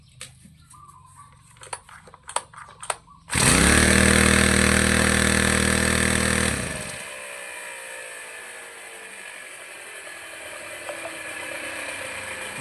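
A small grass-cutter engine sputters through a few sharp pull-start tugs, then catches with a loud, buzzing two-stroke roar for about three seconds before dropping to a quieter idle.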